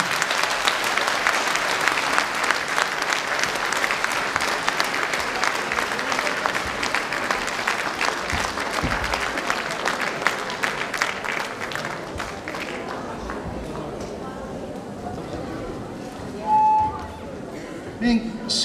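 A concert audience applauds loudly and steadily in a hall for a long stretch, then the clapping thins out and fades toward the end.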